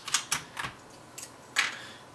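Keycaps pulled one by one off a Ducky DK9008 mechanical keyboard with Cherry MX Brown switches, giving a handful of sharp, close plastic clicks and snaps at uneven intervals.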